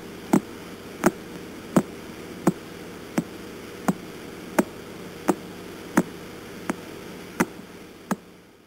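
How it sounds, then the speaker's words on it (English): A recorded pulsar star gives a regular series of sharp, loud ticks, about one every 0.7 seconds, over a steady hiss of static. The pulses sound like someone tapping on a microphone. "That's the sound of what they call a pulsar"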